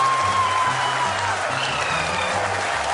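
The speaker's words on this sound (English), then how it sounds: "People are applauding." An audience at an ISRO moon-landing broadcast applauds in a dense, continuous wash of clapping that holds steady for the whole stretch, with a faint low hum and tones running beneath it.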